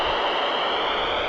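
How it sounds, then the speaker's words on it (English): VHF marine radio with the squelch turned off, putting out a steady broadband static hiss that is even and unbroken, moderately loud and close, with no voice over it. "It's more like a white noise."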